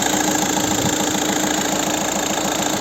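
A VW Touran 2.0 TDI diesel engine with unit-injector pumps, a 2010 model, idles steadily nearby with a loud, even, knocking chug throughout.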